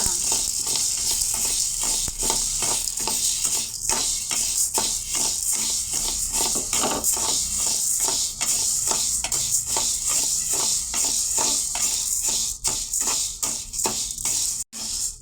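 Dry sago pearls (javvarisi) roast in a hot pan, giving off a continuous gritty rattle and rhythmic scraping strokes as they are stirred, close and fairly loud.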